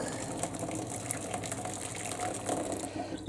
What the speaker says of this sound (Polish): zaleję to bardzo gorącą wodą